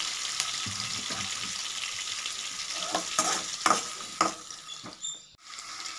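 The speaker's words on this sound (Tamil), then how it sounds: "நான் ஒரு பெரிய வெங்காயம் நல்லா ஸ்லைஸாக கட் பண்ணி வச்சுருக்கேன், அதை சேர்த்துக்கலாங்க." Sliced large onion frying in a pan for beetroot rice, a steady broad sizzle with occasional stirring scrapes and clinks, close and moderately loud, no voices.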